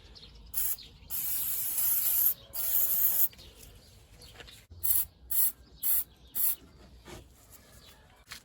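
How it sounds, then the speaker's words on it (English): Penetrating oil sprayed onto a rusty pinch bolt on a 2014 Kia Sportage 2.0 CRDI front suspension: two longer aerosol hisses followed by five short, evenly spaced bursts, close and fairly quiet, with no talking. "Some more penetrating oil to prepare the pinch bolt for removal."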